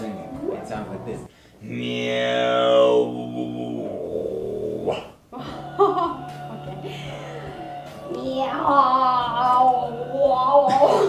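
A man performs throat singing, holding low droning tones with a shifting whistling overtone above them, loud and close. The passages are broken by short pauses, and further vocal bursts follow.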